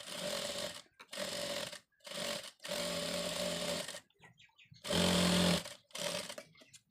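A sewing machine stitches a hem on a sleeve in short, loud bursts of steady mechanical whirring separated by brief pauses, close by with no talk.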